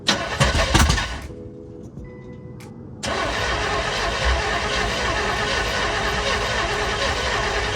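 A big block Chevy C10 pickup engine cranks and catches with the choke on, settling into a loud, steady running roar after a brief lull, close up with no talk.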